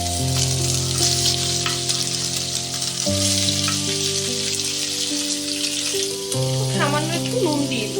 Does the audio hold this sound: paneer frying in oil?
yes